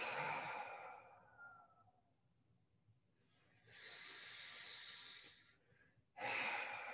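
Slow, audible breaths drawn in through the nose during yoga breathing practice, with a soft airy inhale, a pause, a longer sustained hiss, then another strong breath, close and alone.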